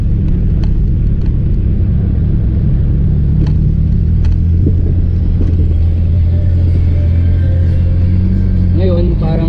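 Engine of a Mitsubishi Lancer GSR project car hesitating at around 2,000 RPM, heard from inside as a loud, steady low rumble that swells slightly, with faint voices mixed in.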